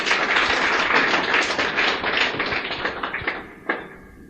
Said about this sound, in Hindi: तालियां बजा दें इनके लिए एक बार।